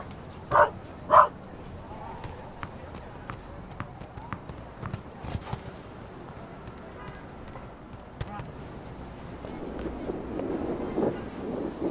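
A dog barks twice in quick succession in the video game The Raven Remastered, sharp and loud, followed by scattered clip-clop footsteps and soft background ambience.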